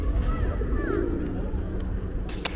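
Pigeons coo softly in a busy city square in Poltava, Ukraine, with low burbling calls over steady crowd noise and distant voices.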